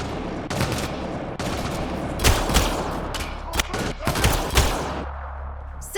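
Gunfire from a Mass Effect Andromeda battle crackles throughout as a dense run of shots and short bursts, with several louder, closer cracks standing out over the din.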